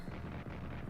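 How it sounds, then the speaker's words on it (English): Artillery fire in the World War I strategy game Strategic Command: World War I, a dense rumbling barrage of booms heard for under a second, loud and continuous with no talk. "Then the artillery."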